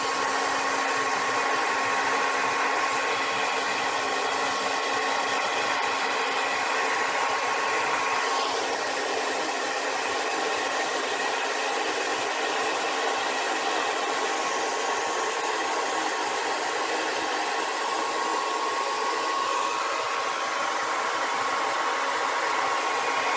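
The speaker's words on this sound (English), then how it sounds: "So I'm just using a regular blow dryer." A regular handheld blow dryer runs steadily and loudly at close range for the whole stretch, a constant airy whir with no talk over it, used to heat a drip painting.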